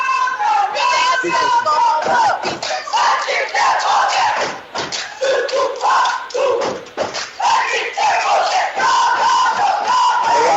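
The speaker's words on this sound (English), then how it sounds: "The crowds are ecstatic because he got a foul." A basketball crowd at a Mount Pleasant high school game roars and cheers after a foul, loud and sustained throughout with shouting, thuds and scattered voices in the mix.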